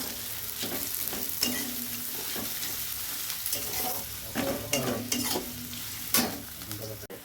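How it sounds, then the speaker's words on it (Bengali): Onions fry in a pan with a steady close sizzle, stirred now and then with sharp scraping and clattering strokes of a spoon. "পেঁয়াজগুলোকে এবার আমি ভালো করে ভেজে নেবো"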